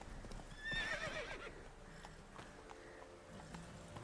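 Roach, Geralt's horse in The Witcher 3, neighs with a bright rising whinny early on, then hooves clop steadily in a galloping rhythm through the rest, close and moderately loud with no talking.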